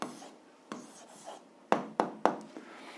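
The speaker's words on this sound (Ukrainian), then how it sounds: "записуємо відповідь, пишемо відповідь." A pen writes an answer on paper during an algebra exercise, making soft scratching strokes with several sharper taps close together toward the end, near and quiet.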